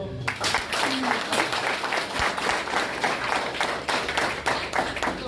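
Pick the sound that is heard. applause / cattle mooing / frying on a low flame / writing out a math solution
applause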